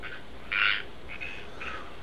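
Frogs call among thick foliage: one loud, nearby rasping call is followed by two fainter, more distant calls over a constant low ambient hum.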